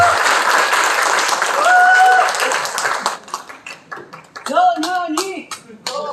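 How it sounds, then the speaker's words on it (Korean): An audience at a political lecture applauds loudly for a guest speaker, a dense wash of clapping that fades after a few seconds into scattered claps, cheers and chanting voices. "큰 박수로 모십니다."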